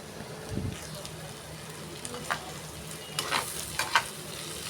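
Watermelon rind curry frying in a pan, a low steady sizzle with a few scraping stirs and sharper crackles toward the end, quiet and close.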